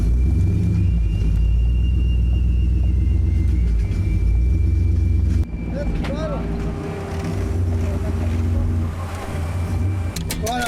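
A 360-horsepower 4WD truck towing a camper revs hard at full throttle, a loud close droning engine roar that dips sharply midway before building again, with a voice mixed in.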